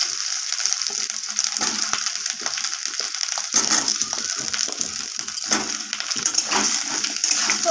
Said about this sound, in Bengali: আলুগুলোকে আমি নাড়াচাড়া করে এইভাবে ভাজা করে নিচ্ছি